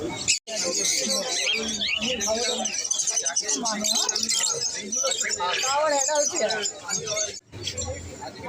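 Caged birds, doves among them, chirp at a bird market selling pet birds, thin tweets scattered through near, continuous conversation between people.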